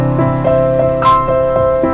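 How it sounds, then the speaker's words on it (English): A sustained piano major triad plays with a few softer notes repeating over it, steady and moderately loud with no voices. "It sounds like a major triad."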